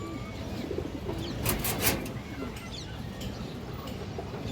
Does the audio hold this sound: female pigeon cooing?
yes